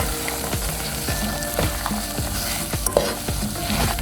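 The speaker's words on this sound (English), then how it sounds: "All right, in go the pecans. And we're just going to coat it." Raw pecans are stirred into a candied topping in a hot pan, with a steady sizzle and a spoon scraping the pan in regular strokes, close up and with no talk.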